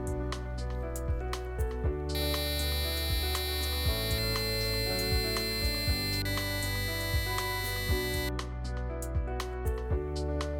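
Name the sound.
piezo buzzer emitting tones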